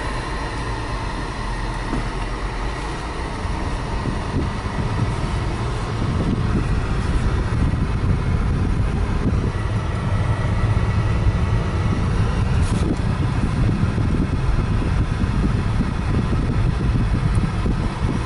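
A 2000 BMW 323i is driven around the block, a continuous engine and road rumble with the air conditioning running, heard from inside the car, steady and fairly loud throughout.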